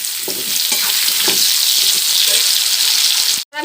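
Potato and onion frying in a pan as tomato goes in, a loud steady sizzle with stir scrapes and faint clinks, ending in a brief drop to near silence.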